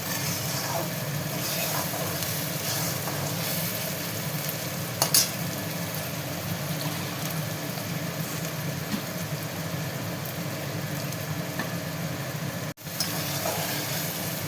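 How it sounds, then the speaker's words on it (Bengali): Spices and tomato for a katla fish curry fry in oil in a pan and are stirred, giving a constant close hiss of frying with scattered scrapes and a brief sharp knock near the end. "মশলা পুরো কষে গেছে"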